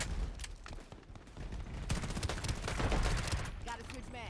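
Rapid bursts of video game gunfire unloaded into a mini boss, fairly quiet overall, with dense crackling shots that thicken toward the end, and a voice briefly audible.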